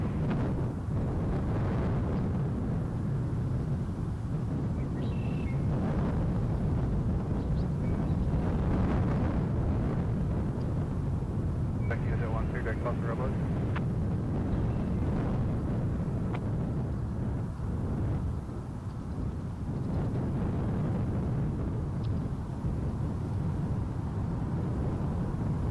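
A smoky aircraft engine start-up at an airport ramp: a continuous, heavy, close roar with shifting rumble and some wind buffeting, holding for the whole stretch.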